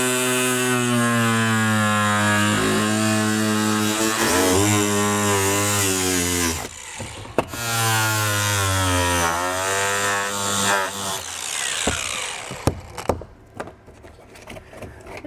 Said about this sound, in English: So I'm using an angle grinder.